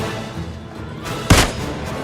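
A single loud rifle shot rings out in a PUBG match, one sharp close blast with a short decaying tail over quiet ambient game sound.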